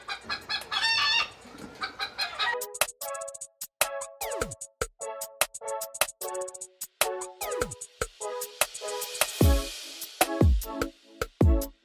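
A rooster crows nearby, with sharp repeated clucks and squawks from several birds around it, loud and close; fighting-breed gamecocks.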